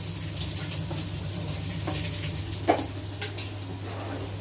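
Tomato sauce simmers in a pot with a little added water, giving a steady low bubbling hum, while a spoon stirs it with a couple of soft clinks against the pot.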